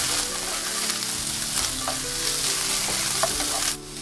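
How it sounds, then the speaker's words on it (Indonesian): Beef stir-fries with garlic, shallots and ginger in hot oil, giving a dense, even sizzle close up, punctuated by a few sharp stirring scrapes and clinks, then cutting off abruptly near the end; no voices. "Tumis harum, lalu masukkan daging sapi."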